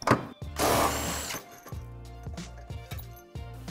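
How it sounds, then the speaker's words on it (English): Tools work on the rear subframe bolt of a Ford Mustang GT350 during a lowering spring install: a burst of power tool whirring, then a series of sharp metallic clanks and rattles, close and loud. "and now we can remove the rear subframe bolt"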